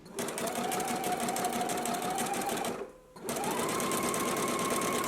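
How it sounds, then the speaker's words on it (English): A sewing machine stitches gathering stitches along the lower edge of a sleeve, running in a fast, even close whir with one brief stop partway through before it starts again. "go ahead and do your gathering stitches as well on the lower edge of your sleeve now"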